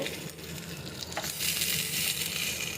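Beef chaap pieces frying in oil, a steady soft sizzle with faint crackle throughout, brightening and growing slightly louder partway through, with no talking.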